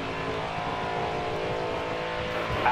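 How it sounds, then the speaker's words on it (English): Damaged race car engine in the Nascar Heat 4 video game on the Talladega track, with sill and rear damage, droning steadily with layered engine harmonics for the whole stretch and a brief louder rise near the end. "I think the car's sounding a little bit different now."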